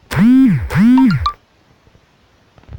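Video game notification chime: two bright, bouncy rising-and-falling electronic tones in quick succession, loud and close, followed by near silence.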